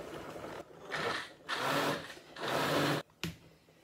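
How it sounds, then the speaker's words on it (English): A motorized stick blender whirs through tomatoes, seeds and skins, in three loud bursts of a second or so each, separated by short pauses, ending with a brief final pulse. "I'm going to whiz this up with my stick blender"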